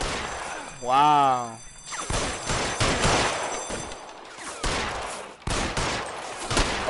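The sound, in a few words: gunfire in a shooting cutscene from video game L.A. Noire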